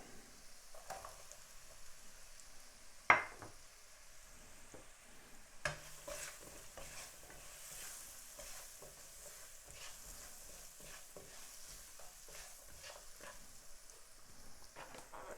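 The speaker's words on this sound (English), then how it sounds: "stir right there, stirring all of that onion, all of that garlic" Onion and garlic stirred in a frying pan for a curry aubergine, a soft continuous sizzle under a scraping spoon, with one sharp clack near the start and a louder stretch after it, no talk.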